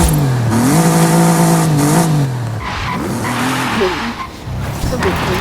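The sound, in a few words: car engine and tire squeal in video game Forza Horizon 5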